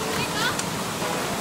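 Cambugahay waterfall in Siquijor pours in a loud, continuous broadband rush of flowing water, filling the whole clip.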